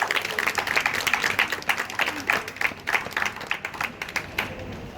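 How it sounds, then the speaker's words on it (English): Scattered clapping from a modest crowd at a public speaking event in Leicester, uneven and somewhat thin, with individual claps standing out over a murky background. "Quick round of applause."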